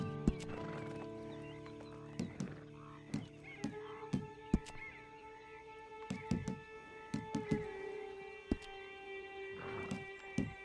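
A horse in the video game Red Dead Online clip-clops along in steady hoofbeats, with sharp percussive steps, snorts and a whinny over a sustained musical drone, no talking.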